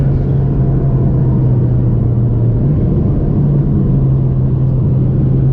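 Mitsubishi Lancer Evo 9 MR engine under way, a steady loud droning rumble with a constant low hum running throughout, no voices over it.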